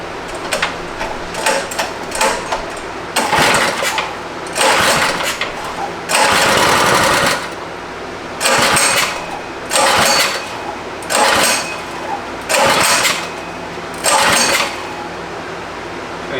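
An abandoned go-kart engine is repeatedly pull-started, with about eight loud, rough bursts of cranking sputter, each lasting about a second, separated by short pauses. It never settles into a steady run.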